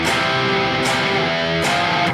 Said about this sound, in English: This time we also need to be careful about muting the 6th string, so it doesn't ring accidentally.